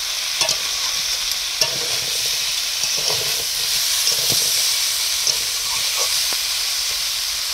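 Potatoes and Malabar spinach fry in a pan with a constant hiss and sizzle, and a utensil scrapes and stirs in irregular, close knocks. The cooking is in a village and no one talks.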